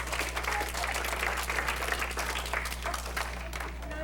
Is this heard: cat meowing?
no